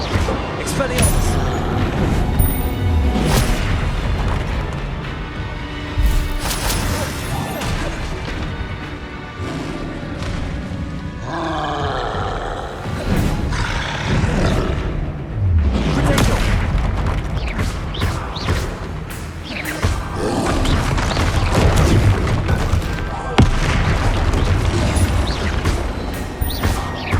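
Fiery Confringo blasts boom and crash repeatedly during Hogwarts Legacy spell combat, loud and dense, mixed with other spell effects, impacts and game music, with voices speaking over the action.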